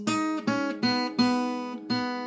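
Five ringing guitar strums of open strings, each struck and left to sustain briefly before the next, clear and close with no talking.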